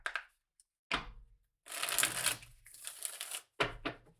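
A tarot deck being shuffled by hand comes through in several quick, papery bursts of riffling separated by short pauses, fairly close and clear with no talking.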